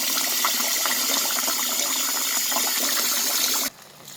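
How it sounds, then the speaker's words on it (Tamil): Water poured over washed cumin samba rice in a kitchen to soak it for mutton biryani, a steady close splashing gush that stops abruptly near the end, with no talk. "தண்ணி ஊற்றி ஊற வச்ச வேண்டியதான்"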